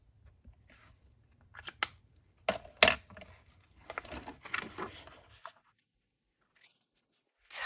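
An American Crafts acrylic pen writes in a paper daily journal: short, close scratchy strokes come in uneven bursts with brief pauses, then a long near-silent stretch before one last stroke.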